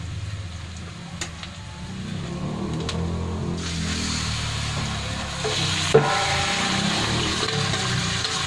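Meat hits a hot pan with browned aromatics and fries with a steady, swelling sizzle, stirred with scraping clatters and one sharp knock, loud and close throughout.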